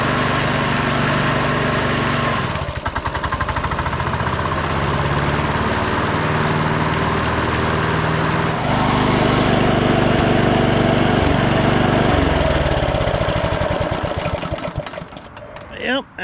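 A lawn mower engine runs loudly and steadily nearby with a coarse buzzing drone. Its pitch shifts as the idle rises, and a voice can be heard faintly under the engine.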